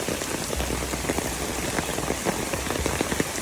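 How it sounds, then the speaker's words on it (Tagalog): Heavy afternoon rain pours down behind a house, a dense, steady hiss of drops spattering on surfaces, loud and unbroken with no talking. "Lakas ng ulan guys"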